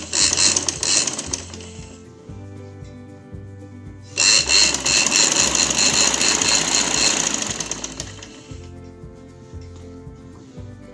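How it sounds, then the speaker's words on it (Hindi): A sewing machine stitches a folded edge on a ladies' kameez with a steady mechanical whirring rattle, running in two longer bursts with short stops and slower ticking between them, close and alone. "इस तरह फोल्ड करके इसके ऊपर सिलाई लगा लेनी है।"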